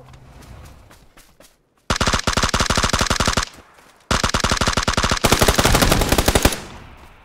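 Automatic rifle fire in the battle-royale shooter PUBG on Xbox Series S: two long, loud, rapid bursts of gunshots with a brief gap between them, after a quieter stretch.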